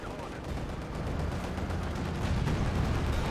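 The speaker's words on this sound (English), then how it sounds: "Pack 40 firing away there" A German Pak 40 anti-tank gun fires in the WWII strategy game Company of Heroes 2. Dense, rumbling battle noise with booming shots rolls on continuously, growing slightly louder toward the end.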